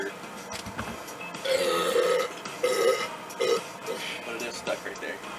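A person lets out several throaty burps in bursts, mixed in with casual talking nearby.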